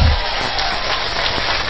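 Audience clapping at an Islamic New Year religious talk, a dense, even wash of many hands patting together, loud and close and continuous for the short moment.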